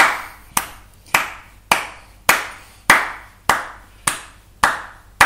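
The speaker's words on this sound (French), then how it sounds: "On l'applaudit, on l'appelle." Slow, steady hand claps at even intervals, nine or ten loud, crisp smacks each ringing out briefly, with no talk, as a cheer to call a host onto a board-game show.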